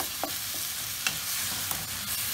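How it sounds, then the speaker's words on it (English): Minced meat with cumin and black pepper sizzles steadily in a pan for kibbeh, a continuous broadband hiss broken by a few sharp scrapes and clicks of stirring, close and alone with no voices. "So you just want to continue cooking this until all the meat has browned."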